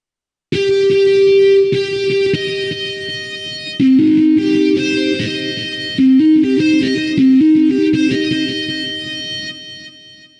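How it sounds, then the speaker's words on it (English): Distorted metal guitar patch built in Reason, heavy saturated tones chugging and sliding through riffs, loud and alone after a short silent start. "And now we're done. You should start getting a guitar sound like this."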